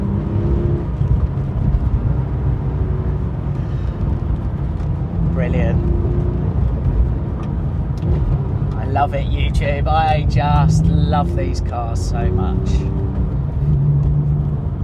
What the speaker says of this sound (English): The Mezger engine's got a lovely noise.